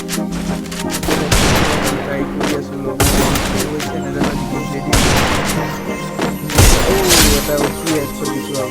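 Loud video-game gunfire landing headshots bursts out in several sharp volleys with booming impacts, one every second or two, close and dense, and the game's sound stays busy in between.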